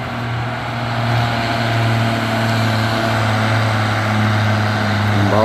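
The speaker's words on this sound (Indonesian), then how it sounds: "Ya, ini ada truk Fuso teman-teman." A Fuso truck's diesel engine idles on a steep hill, a steady, loud, low rumble with a constant hum that holds evenly throughout.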